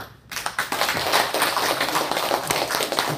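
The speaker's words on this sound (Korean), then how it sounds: "소개할 때 나오실 때 큰 박수로 환영해 주시기 바랍니다" Church congregation gives a big round of applause welcoming a guest pastor, dense continuous clapping starting after a brief quiet moment and holding steady, fairly loud and close.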